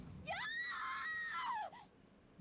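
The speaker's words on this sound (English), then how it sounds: "A scream?" A single drawn-out scream, likely a girl's, rings out in the video game Danganronpa 2, rising and wavering for about a second and a half, loud and alone.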